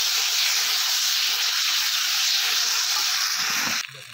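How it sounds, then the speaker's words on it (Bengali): Potatoes sautéing with spice paste in a pan, a loud steady close-up sizzle and hiss that continues evenly before suddenly dropping away at the end. "মশলা দিয়ে এবার আমি ভালো করে এটা কষিয়ে নেব।"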